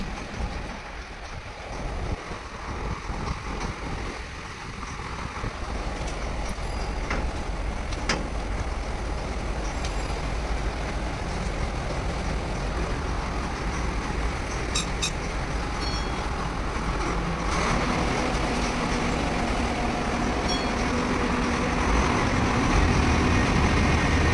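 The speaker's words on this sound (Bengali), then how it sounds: "আমাদের লঞ্চ এসে গেছে, আমরা এখন উঠবো।" A motor launch approaches a riverside ghat in Kolkata, its engine a steady low rumble mixed with wind buffeting the microphone, growing slightly louder and rougher toward the end.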